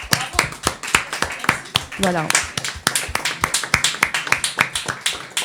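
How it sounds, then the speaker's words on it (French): Rhythmic clapping from a small live audience at a late-night show, sharp individual claps in a quick steady beat, with a voice speaking briefly partway through. "Générique applaudissements, s'il vous plaît."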